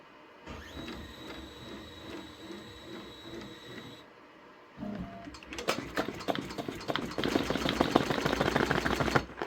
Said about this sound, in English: I'm going to stitch it out on the lowest speed possible, which is 400 on my machine. I'm going to go ahead now and start the stitching.